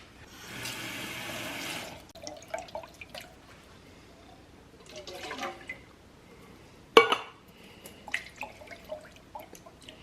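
Crushed tomato residue being rinsed out by transferring water from one can to the next while making chili, with a broad sloshing burst near the start, then scattered drips, clinks and a sharp knock midway.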